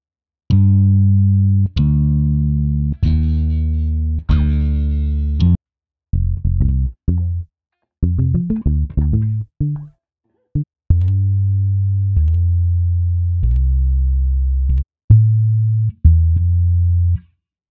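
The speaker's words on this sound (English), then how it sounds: "so let's listen to a few of the basses here" A series of deep electric bass lines play in short phrases, separated by brief pauses, each loop thick and loud with some bright plucked attacks.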